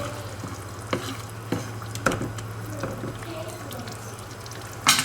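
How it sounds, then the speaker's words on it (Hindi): A utensil stirs pulao in a pot with a handful of scraping strokes over a low steady hum of cooking, fairly quiet and close, with no one speaking. "हिलाया"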